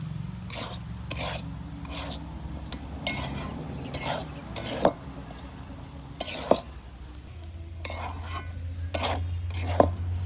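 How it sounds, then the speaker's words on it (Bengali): Semolina upma with winter vegetables being stirred in a pan, a series of scraping spoon strokes and light metal clinks at an uneven rhythm, close by over a faint low hum. "এবার ভালো করে আবার মিশিয়ে নেবো"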